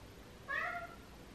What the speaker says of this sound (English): that's a cat telling you something